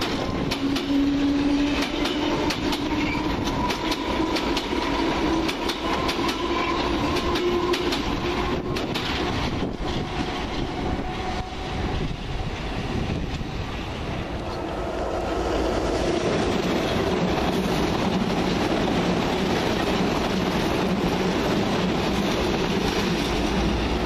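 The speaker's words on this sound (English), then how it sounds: "And there goes the Richmond train." London Underground train bound for Richmond pulling out of Stamford Brook station, a loud rumble of wheels and rails that fades as it departs, with no talk.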